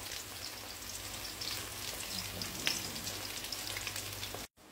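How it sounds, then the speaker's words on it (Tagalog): Flour-coated chicken frying in oil, a steady close crackling sizzle with scattered pops that runs alone without talk, then cuts off abruptly near the end. "So, ipiprito na natin siya hanggang mag-golden brown."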